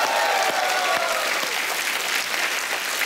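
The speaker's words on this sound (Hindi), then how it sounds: "एक बार जोरदार तालियां हो जाए उनके लिए" Loud, dense studio audience applause on a comedy TV show honoring a singer, a close, continuous wash of clapping from start to finish.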